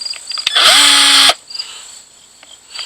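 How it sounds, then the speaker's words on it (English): A power drill whirs loudly for under a second while snugging screws on a Viper E43cc earthquake auger during a repair, set against a steady background hiss with faint clicks after the burst. "And using this drill may be the wrong thing"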